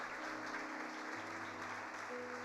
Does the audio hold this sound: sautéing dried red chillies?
no